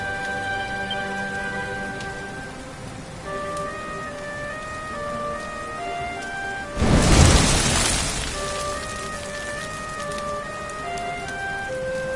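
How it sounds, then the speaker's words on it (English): Steady rain patters through a scene in the video game Dragon Quest XI, with a soft musical score beneath and a brief rumbling burst midway. "Looks like the rain's dying down."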